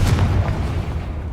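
Confringo fire spell bursting in the video game Hogwarts Legacy, a single deep booming explosion with a rumbling tail that fades over about a second.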